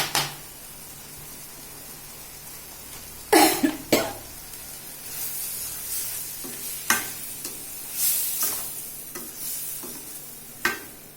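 Blood stir-fry (ratha poriyal) in a pan, with intermittent stirring scrapes and soft sizzling, plus a few sharp knocks and a cough-like burst partway through; no speech.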